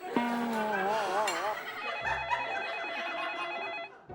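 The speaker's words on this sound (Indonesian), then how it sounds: "Bos, ada telepon tuh." A telephone rings with a warbling electronic tone, repeating steadily, fairly close, with faint background noise and a low hum partway through.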